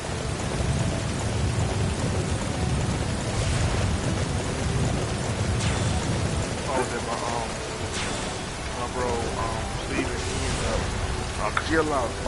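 Rain and rolling thunder in the Dynasty Warriors 9 video game, a steady wash of rainfall with low rumbles, while someone talks over it throughout.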